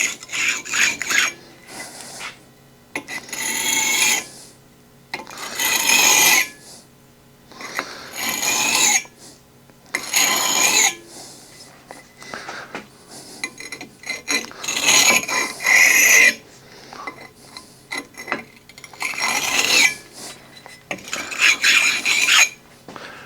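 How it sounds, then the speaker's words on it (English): A sharpening stone rubs back and forth across a drum mower blade to take off the burr, giving repeated raspy strokes in close, loud bursts separated by short pauses. "I'm going to take a stone and I'm just going to rub to get this burr off"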